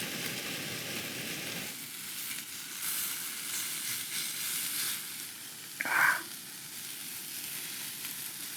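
Red, gamey meat searing in a pan at a windy campsite, giving a faint, steady sizzle with a soft brief clatter near the end and no talking.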